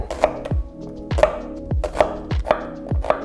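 A knife chops through a small carrot and an onion on a cutting board for beef bourguignon, each cut landing as a sharp, close thunk in a steady, fairly quick rhythm, with no voices.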